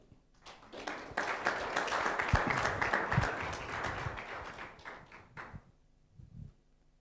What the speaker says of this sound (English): You applaud until he arrives